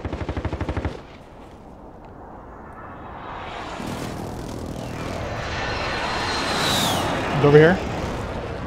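Enemy precision airstrike in Warzone: after a burst of rapid gunfire, a rising aircraft roar and rumbling impacts build, with a sharp blast near the end, under a player's speech.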